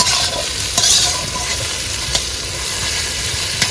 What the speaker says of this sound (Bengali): এবার কিন্তু সব একেবারে ভালোভাবে কষায় নেব